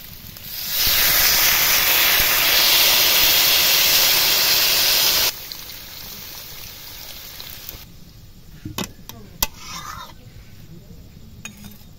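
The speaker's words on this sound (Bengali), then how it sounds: "ঝোলটা হালকা ফুটছে" Chicken curry gravy cooking in a pan: a loud, steady steamy hiss for several seconds, then quieter low bubbling with a few utensil clinks.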